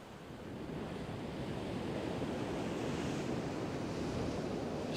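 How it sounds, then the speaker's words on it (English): Storm waves roll in as big rollers and break on the shingle of Chesil Beach at Abbotsbury, a steady loud wash of surf mixed with wind buffeting the microphone. "now we've had 24 hours of wind. Look at it. Big rollers."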